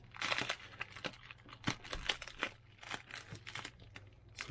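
Packing tape is peeled and torn from a cardboard box holding a large tactical backpack, giving close, irregular crinkling and ripping bursts with no talking.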